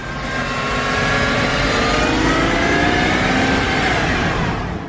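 A Porsche Boxster S engine runs loud and close, revving steadily with rising and falling tones across the whole stretch, with no talking.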